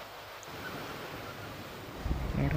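Strong sea waves at Cheung Sha beach on Lantau Island give a continuous rushing surf mixed with wind buffeting the microphone, and a heavier wave crashes louder near the end.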